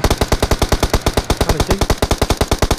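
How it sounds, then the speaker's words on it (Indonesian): Sustained automatic gunfire in PUBG Mobile, a rapid, even, loud burst of shots in a close, steady rhythm that continues throughout, with no talking. "Tembak ke depan."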